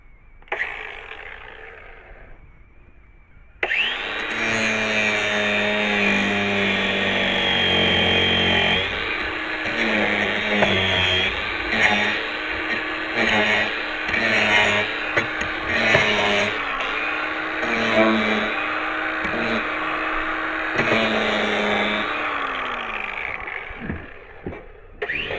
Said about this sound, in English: why I bought this grinder is to get the little excess